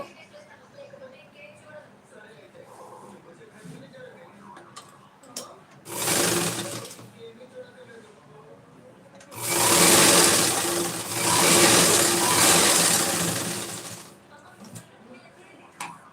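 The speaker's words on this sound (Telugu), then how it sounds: "డబల్ డబల్ ఫోల్డింగ్ చేసుకొని ఇలా స్టిచ్ చేసుకోవాలి" A sewing machine stitching a double-folded hem on a saree petticoat runs in two bursts, a short whirring run and then a longer, louder steady run, close by with quiet room tone between.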